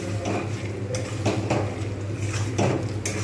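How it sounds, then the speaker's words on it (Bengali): A spoon scrapes and knocks against a pot while chicken biryani is stirred, giving irregular metallic clinks and scraping strokes over a low steady hum. "এবার আমি ভালো করে এটাকে নাড়িয়ে দেবো"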